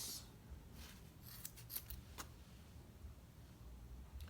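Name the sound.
scissors cutting crochet yarn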